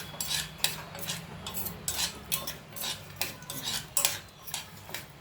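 Metal spoon scraping and clinking against a pan while fada lapsi (broken wheat) is stirred in ghee over low gas, a steady series of rhythmic scrapes about twice a second, close and clear.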